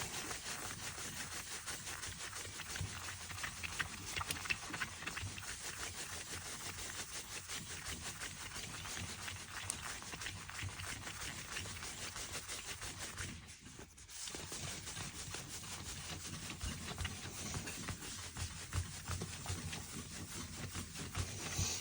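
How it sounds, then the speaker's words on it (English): Steady, rhythmic rubbing of a cloth working polishing compound into the finish of a Gibson Goldtop guitar, a continuous close scratchy swish with one brief pause midway, no talk. "I like to put the compound right on the surface and then use a cloth fiber to buff it in"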